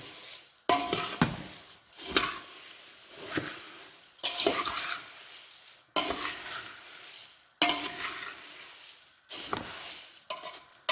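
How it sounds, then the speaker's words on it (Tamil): Puffed rice kara pori being stirred with peanuts, roasted gram and salt, a dry rustling, scraping mix in repeated bursts about every one to two seconds, close and fairly loud with no talk. "இந்த மாதிரி கலக்கிடணும்"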